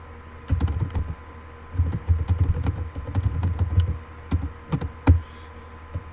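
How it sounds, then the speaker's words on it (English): A wonky computer keyboard typed on in quick clattering runs of keystrokes, close and fairly loud, broken by short pauses and a few heavier key hits. "it would help if my keyboard were a little less wonky"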